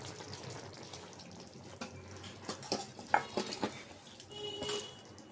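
Fish curry made with mola fish, potato and green mango slides from a pan into a bowl, with quiet liquid pouring, soft scraping and a few light clinks of the pan and spoon, close and gentle.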